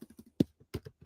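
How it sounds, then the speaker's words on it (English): Keys on a computer keyboard are tapped in a short, quiet, irregular sequence of soft clicks and thumps, close and alone. "I was just typing something in and now I'm changing it."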